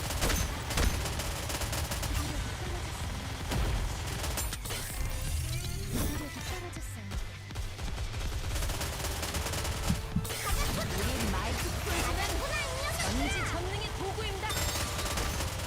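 Sustained gunfire in the Nikke video game, loud and dense, with continuous rapid bursts and mechanical clanks filling the whole stretch amid layered game sounds.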